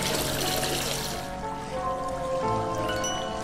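Water poured into a glass in the Demon Hunter 2 video game, a steady close pour that fades into a thin ringing trickle.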